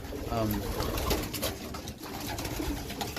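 A pigeon hen cooing close by, soft low repeated coos mixed with nearby rustling and a voice talking over it.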